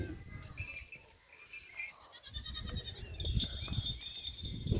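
Young goats give faint, thin bleats at a distance during grazing and drinking, a few wavering calls over a rustling outdoor background with little talk.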